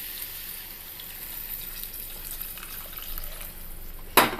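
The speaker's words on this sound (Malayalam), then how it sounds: "ചൂടുവെള്ളം ഒഴിച്ചു കൊടുക്കാം." Hot water pours into a potato masala curry in a pan, giving a steady faint hiss and sizzle, ending in a short sharp clatter.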